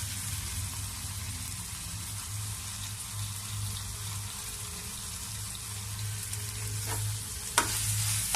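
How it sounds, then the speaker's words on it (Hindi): Chicken fried with turmeric in a pan, shawarma-style, gives a steady broadband sizzle throughout, with a low hum underneath and a couple of brief clinks near the end. "हल्दी में हमारा चिकन जो है वो फ्राई हो चुका है।"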